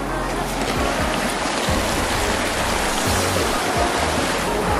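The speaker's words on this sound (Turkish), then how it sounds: "Bağırmamın nedeni şimdi küçük bir şelale var. Su akıyor." A small waterfall at Kıranardı near Kayseri pours in a steady, loud rush of water that fills the scene without pause, with low rumbling underneath and no break in the flow.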